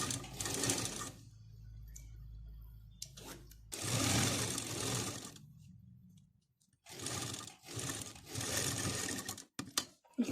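A sewing machine stitches a feeding kurti in several separate bursts, each a close, buzzing run of a second or two, with quiet gaps between.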